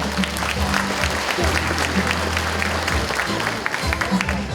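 Applause from a hometown audience at a county talk concert as local council members are introduced: continuous crowd clapping over a low steady hum from the hall's sound system, with some background voices.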